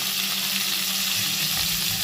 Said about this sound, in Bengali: এটাকেও লালচে করে ভেজে নিতে দেখো পটল ভাজা হতে হতে